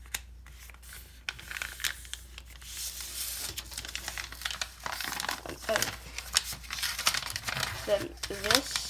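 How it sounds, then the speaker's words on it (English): Paper being folded by hand to make a paper claw, soft crinkles and creases coming in short bursts close by, under a person talking. "And you fold this piece right here over"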